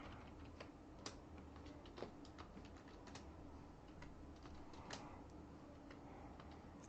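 Quiet typing on a computer keyboard while filling in an office letter draft, with scattered light key clicks at an irregular pace over a constant background hiss.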